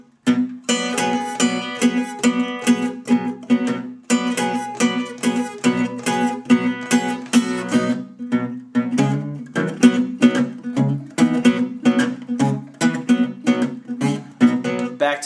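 An acoustic guitar plays a six-note blues lick, plucked notes ringing in a steady rhythm over a low droning bass string and repeated several times, played solo and up close.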